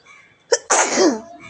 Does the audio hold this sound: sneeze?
yes